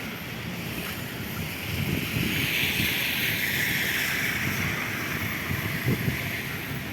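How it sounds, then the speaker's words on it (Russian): Strong wind roars and buffets steadily through a residential district of Yakutsk, with a low rushing rumble and gusty surges across the whole stretch. "Ветра сильные."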